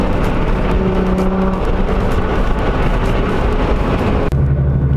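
A Nissan GTR sports car is given gas in a residential neighborhood, its engine roaring loudly and steadily throughout with a deep, rumbling tone that shifts pitch near the end.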